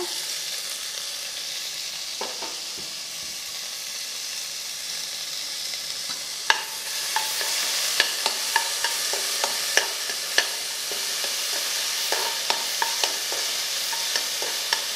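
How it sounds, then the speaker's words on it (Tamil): Onion and a tomato sauté in a pan, a steady close sizzle with regular scraping and clicking as a spoon stirs, the stirring taps growing more frequent toward the end. "நம்ம குக்கரில் வேக வைக்கிறதுனால ரொம்ப வதங்க வேண்டியதில்லை, லேசாக வதங்கினா போதும்"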